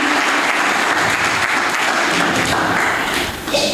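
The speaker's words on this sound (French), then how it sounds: "des tonnerres d'applaudissements pour les femmes de Médina Saba" A loud, sustained round of applause from a crowd, with dense clapping that holds steady the whole time.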